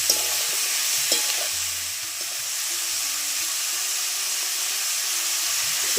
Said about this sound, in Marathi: नंतर चवीप्रमाणे मीठ मिक्स करून घेतो